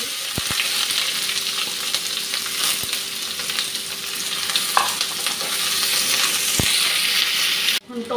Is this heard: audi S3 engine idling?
no